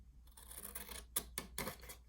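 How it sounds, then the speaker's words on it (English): Scissors cutting into a paper folder for a junk journal pocket: a few close, crisp snips with soft rasping slides between them, quiet and with no talk. "Now I'm going to cut into my folder to make my little pocket."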